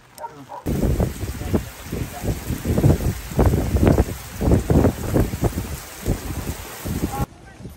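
Steady rain in Davao patters and hisses across the whole stretch, with wind buffeting the microphone and voices talking underneath.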